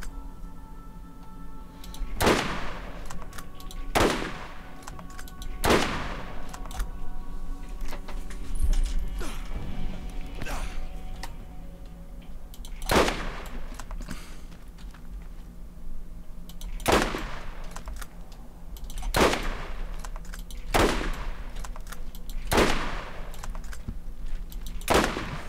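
Sniper rifle shots ring out in Borderlands, about ten sharp, loud cracks spaced a few seconds apart over a steady game background hum.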